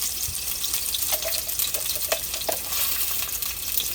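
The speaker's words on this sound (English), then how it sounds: "I'm going to add some onions" Onions sizzle steadily in hot oil for a mango curry, a close, even hiss broken by a few soft stirring clinks.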